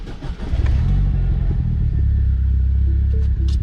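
A car engine idles with a steady low rumble, then revs up and holds at a loud, close drone, running strongly throughout with no talking.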